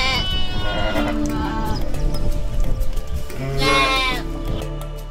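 Sheep and goats in a herd of about seventy small livestock on Alai pastures bleat loudly and close by, two clear calls separated by a short pause, with other animals murmuring underneath.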